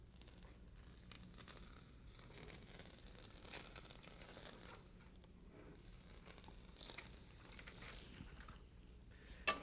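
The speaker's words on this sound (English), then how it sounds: "when you pour it over the fish, it's going to sizzle" Faint, steady sizzling of hot oil poured over a whole fish, a continuous crackling hiss with small pops, heard alone without talk.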